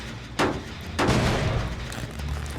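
Two sudden booming blasts in Dead by Daylight, the second heavier with a rumbling decay that lingers.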